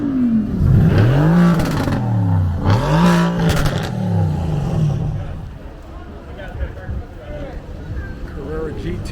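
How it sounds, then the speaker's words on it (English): A Porsche Carrera GT sports car engine rises and falls through two strong revving sweeps, then fades into background street noise with lighter engine sounds further off, all outdoors during Monterey Car Week. "Carrera GT."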